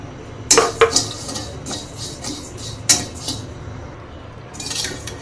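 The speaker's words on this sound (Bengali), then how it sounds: "এই জন্য প্রথমে জিরা ভেজে নেব।" Cumin seeds dry roasting in a pan for homemade garam masala, heard as sharp metallic clinks and scrapes of a utensil against the pan in a few distinct bursts, with a light rattling tail near the end.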